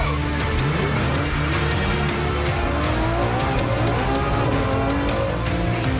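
A Ferrari F12 and an Aston Martin launch off the start together, engines roaring loudly and constantly with rising revs and tyre squeal on a slippery, greasy surface, close and with no talk.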